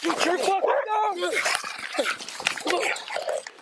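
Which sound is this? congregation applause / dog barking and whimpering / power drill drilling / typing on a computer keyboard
dog barking and whimpering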